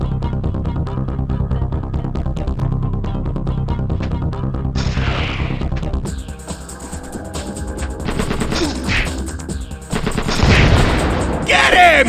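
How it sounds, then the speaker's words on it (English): Bursts of machine-gun fire and gunshots in the Spider-Man 2 video game, rapid rattling volleys mixed with game effects and sharp booms, loud and close, ending in a heavier crash near the end. "it'll stop the machine gun"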